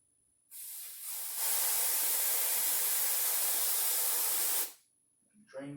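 Compressed air bursts from the drain valve of a restored Rolair 5520K17 air compressor, a loud, steady hiss that holds for about four seconds and then cuts off sharply.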